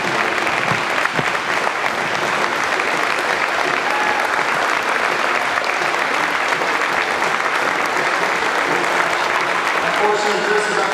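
Sustained audience applause fills a hall of fame dinner, welcoming an inductee into a university athletics hall of fame; dense, steady clapping from a large crowd continues evenly throughout.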